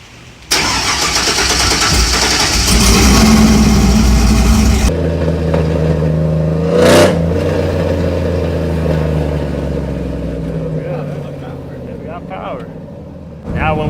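A Chevrolet Silverado with a 5.3L V8 and Flashark long tube headers cranks and fires into a loud, rough idle, the exhaust rumble settling and continuing close by while a person talks over it.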